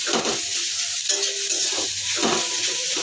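Carrot paste frying and being stirred in a hot pan, with a steady loud sizzle broken by repeated scraping strokes of the spoon close by, and no talk.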